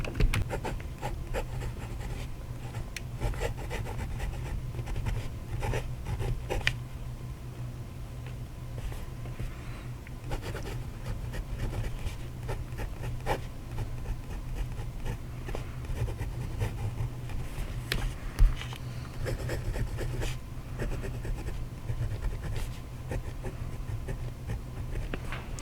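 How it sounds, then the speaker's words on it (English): A Hongdian C1 fountain pen with a hooded nib scratches lightly across paper in a continuous run of quiet, close strokes with slight scratchy feedback, and no talking over it. "So you may have heard there's a little bit of feedback here with the nib."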